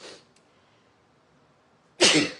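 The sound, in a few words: sneeze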